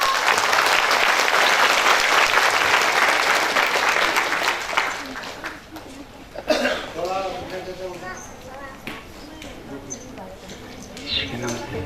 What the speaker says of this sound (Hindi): यीशु के नाम से तालियां हो जाए।